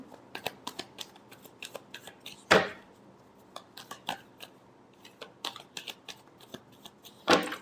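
Tarot cards are shuffled close by in quick riffling bursts, soft flutters broken by a few sharper slaps as the deck is squared and cut.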